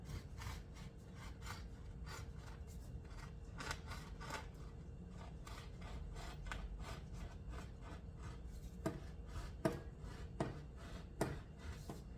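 A serrated bread knife saws through a steak sandwich in a steady run of rasping, scraping strokes on a board, close and fairly quiet, with a few sharper scrapes standing out near the end.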